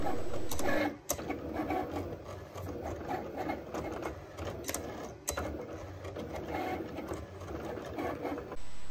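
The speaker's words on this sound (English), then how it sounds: "we made our design in our Cricut template, and we're going to run those through, and we're going to cut them out" A Cricut cutting machine slices holographic sticker designs, giving a steady mechanical whir and chatter that runs through the stretch with brief dips and restarts, with no voices.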